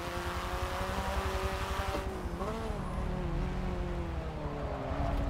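Hyundai Veloster Turbo engine in a racing video game, a steady droning hum with shifting pitch as revs rise and fall, loud and continuous throughout with no talking.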